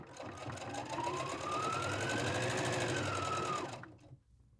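A sewing machine runs steadily while stitching a fabric drawstring bag, a close, fast, even whir with a rising motor tone for about four seconds before stopping abruptly.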